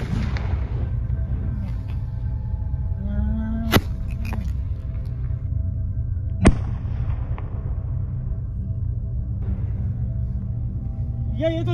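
Firecrackers set off outdoors on a road, giving two sharp, loud bangs a few seconds apart over a steady low background rumble.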